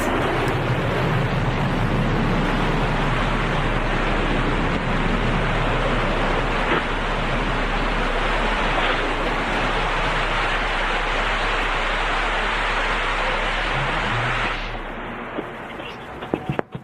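Blue Origin New Shepard rocket booster relights its engine during descent toward landing, a loud, continuous broadband roar that holds steady for about fifteen seconds before dropping off abruptly, with no talk over it.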